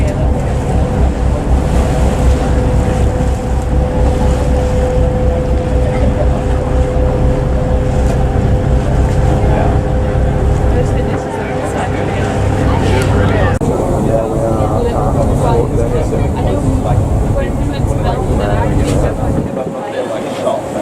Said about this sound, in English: We are at Sydney Harbour. On the boat to Manly.